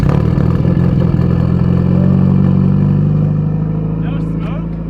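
A Subaru STI engine cold-starts into a steady, loud, low rumbling idle that holds throughout, easing slightly toward the end, with voices talking over it.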